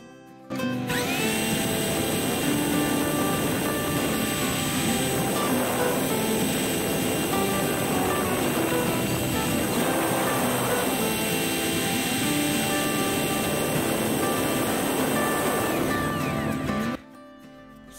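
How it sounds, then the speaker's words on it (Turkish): A power drill in non-hammer drilling mode bores into ceramic tile with a loud, continuous whining motor and grinding that varies slightly in pitch, running steadily for about sixteen seconds before stopping. "Bu modda deliyoruz."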